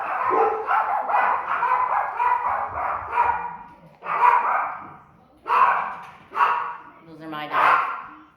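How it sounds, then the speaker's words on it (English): Several pet dogs at home bark in short bursts, fairly close, interleaved with and partly overlapping a person talking. "Those are my dogs."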